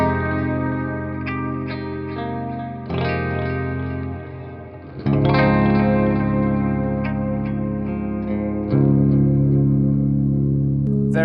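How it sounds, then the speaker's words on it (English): Electric guitar chords ring out through dreamy reverb settings, washed and shimmering with chorus-like swirl, sustaining into one another over about eleven seconds with a louder strum midway. "I then got my lovely reverb settings."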